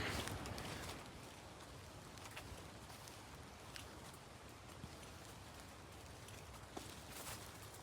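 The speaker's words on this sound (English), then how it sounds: "It just started raining pretty good, but I think it's just showers on and off." Rain showers falling steadily on a New England hiking trail, a soft, even hiss of drops with scattered small taps and patters, fairly faint and alone without talk.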